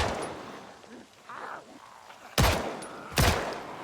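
Two sharp, loud gunshots from a video game ring out about a second apart, following a stretch of quieter game ambience and faint background sound.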